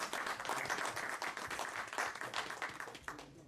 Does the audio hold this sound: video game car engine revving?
no